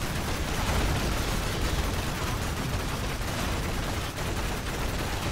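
Dense, continuous gunfire from the video game Warframe, a loud unbroken barrage of overlapping shots with no pauses for about five seconds.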